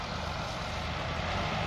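A Massey Ferguson 260 tractor strains to pull a 20-foot trolley loaded with sugarcane, its engine a dense, continuous, loud roar that stays steady and close with no voices.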